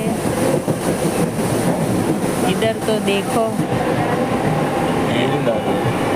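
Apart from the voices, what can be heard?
Mumbai local train running, passenger inside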